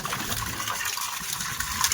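Water pours steadily into a homemade backyard swimming pool as it is being filled, a continuous rushing gush with no voices over the stream.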